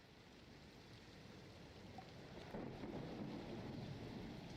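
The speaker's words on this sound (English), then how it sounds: "first your ears are greeted by the sound of rain, or at least falling water." Steady rain pours with a low rumble of thunder swelling partway through, a constant faint wash of falling water with no talking.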